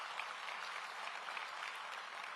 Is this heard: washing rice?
no